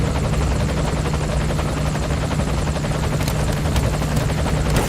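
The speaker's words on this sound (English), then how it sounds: "take a look outside of the helicopter." A helicopter's rotor in Metal Gear Solid V: The Phantom Pain thumps steadily with a constant engine drone, loud and close, continuing without break.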